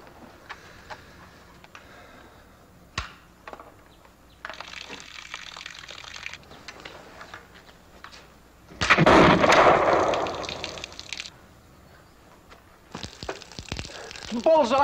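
Rifle shots at target practice crack out as a few sharp reports, one standing out loud and full, with people talking between them.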